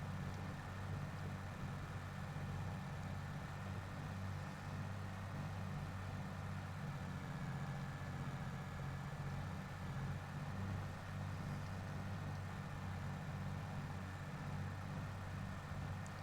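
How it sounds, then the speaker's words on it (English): Steady low engine drone of a John Deere 9630 tractor idling in Farming Simulator 22, a continuous even rumble with no talk over it. "I do really like this tractor."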